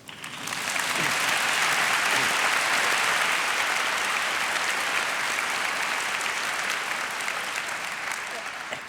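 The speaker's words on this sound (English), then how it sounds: "And I think a nice little clap for him would not come amiss." An audience at a Global Dignity Day event in Finland breaks into sustained, dense applause for Desmond Tutu, rising quickly and holding steady for several seconds before easing off slightly.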